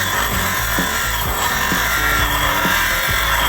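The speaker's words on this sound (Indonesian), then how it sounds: "kikis bagian luar pipa handle menggunakan gerinda duduk" A bench grinder scrapes the outer surface of a steel bicycle handlebar pipe, giving a loud, continuous abrasive rasp with a steady grinding drone and rhythmic scraping pulses throughout.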